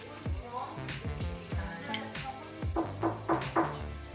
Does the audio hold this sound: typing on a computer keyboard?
no